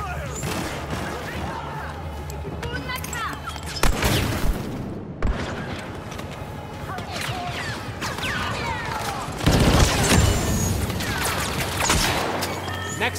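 Blaster fire crackles through a Star Wars Battlefront II battle, with steady volleys of shots and several heavier bursts and crashes near and far, with voices calling out over the din.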